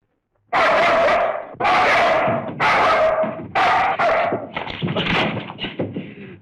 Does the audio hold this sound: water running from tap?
no